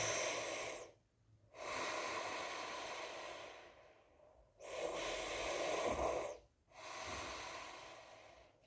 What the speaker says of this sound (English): When you breathe in through the mask,